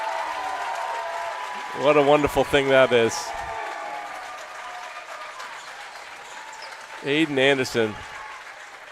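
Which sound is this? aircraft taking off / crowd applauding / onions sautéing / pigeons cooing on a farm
crowd applauding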